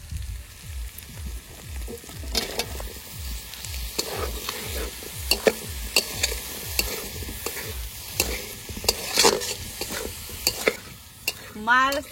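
Brinjal pieces frying in fish oil in a pan, a close sizzle under repeated scraping stirs with a steady rhythm and occasional sharper utensil clacks, no voices.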